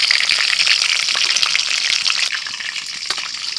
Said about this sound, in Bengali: এটাও তেলের মধ্যে ছেড়ে দিচ্ছি।